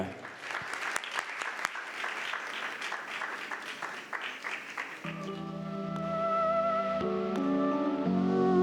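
Applause for a ballroom dance couple at a Pro-Am show fills the first five seconds as a dense crowd clapping. Then it gives way to a song with music and singing that rises in level.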